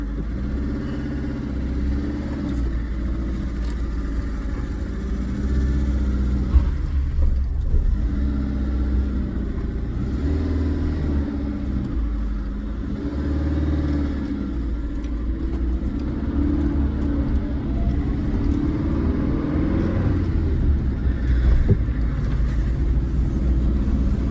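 A car engine hums steadily from inside the vehicle as it drives along, with gentle rises in revs and road noise throughout.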